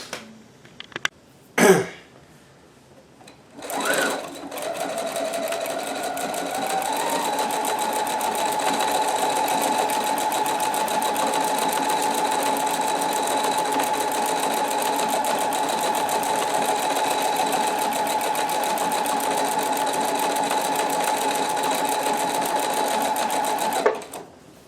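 Sewing machine stitching a decorative paisley pattern down the center of a shirt placket, running steadily and close for about twenty seconds with a fast, even whir after a few brief clicks and handling noises.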